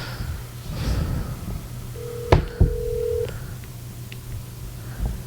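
A phone makes a call with a single steady tone held for about a second and a couple of clicks around it, heard over faint room hum with no one speaking.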